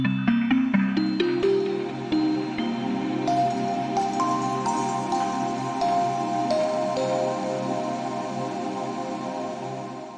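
A big synthesized atmospheric soundscape made in Massive X blends quick bell-like plucks into a sustained, washy pad that swells and lingers with a long, shimmering tail, with no voices.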